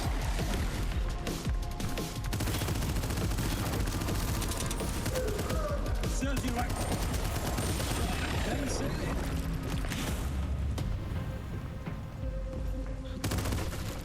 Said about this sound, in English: I really do love the machine gun in this game